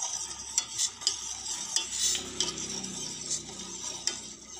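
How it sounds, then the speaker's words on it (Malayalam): Liquid heats in a pan on a stove for a simple experiment, with faint bubbling and sizzling under a series of light metallic clinks and scrapes spaced about half a second apart. No voices are heard. "ഇത് ഈ പാനിൽ വെച്ച് നമുക്ക് ചൂടാക്കിട്ട് വരാം. സ്റ്റോവിൽ വെച്ച് കത്തിക്കാം."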